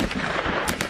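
Several sharp gunshots crack in quick succession outside a recording studio in Chicago, loud and harsh with dense overlapping bursts.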